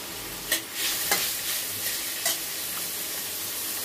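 Beans and vegetables fry in a pan with an even hiss, punctuated by several crisp clinks of a utensil stirring, close up with no talking.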